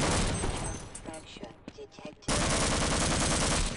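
SMG fire in Half-Life: short choppy bursts mixed with voice-like sounds, then a loud, dense, continuous stream of rapid shots for the last second and a half.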